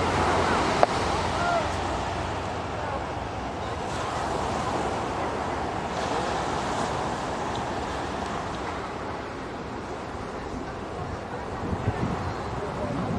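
Surf rolling in on a Hawaii shore with low waves around three feet, a continuous broadband wash with steady wind rumble and no distinct individual crashes, close and moderately loud.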